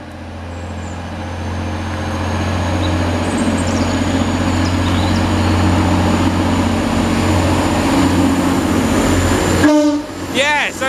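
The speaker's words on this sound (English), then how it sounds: "Now getting ready to depart is a Transpennine Express service in Manchester Airport." A TransPennine Express train for Manchester Airport pulls out of a station with a rising, loud diesel engine drone and rumble that builds and holds. Near the end a short, sharp horn or squeal and a voice come in.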